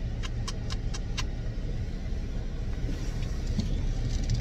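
A Jeep engine rumbles low and steady during a car ride, with a few brief rattling clicks near the start and no talk.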